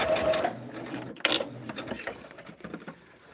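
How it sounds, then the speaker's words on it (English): A sewing machine runs in close, steady bursts as it stitches the corners of a quilt, its rapid mechanical whir pausing briefly and then starting again, with no talking. "We're just sewing on this line right here to put the corners on here."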